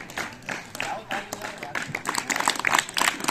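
Scattered clapping from students and teachers at a school Mathematics Day prize event, uneven and fairly soft, with talking over it throughout.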